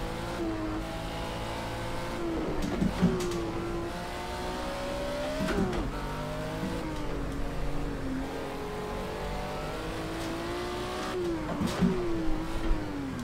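Race car in Project Cars 2 on a city circuit, its engine droning and repeatedly revving up and shifting through gears, with brief tire squeals and bumps, loud and continuous throughout.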